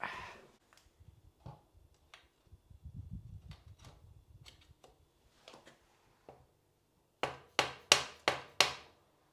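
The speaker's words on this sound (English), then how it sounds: "take the spindle and push that through from the other side and give it a couple of taps so it sits up against the bearing nicely" A square taper bottom bracket spindle is tapped through a bicycle frame against its bearing, with scattered quiet handling knocks and then four sharp, evenly spaced hammer taps close by at the end.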